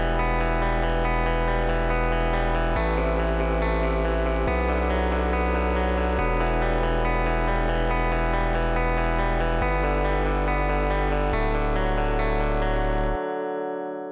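Sustained synth chords change every couple of seconds in a modal interchange progression, with a low bass line added beneath, steady and loud before ending abruptly; no voices.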